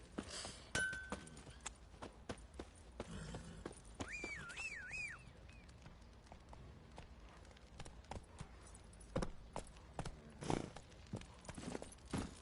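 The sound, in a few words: horse hooves clip-clopping in a PlayStation video game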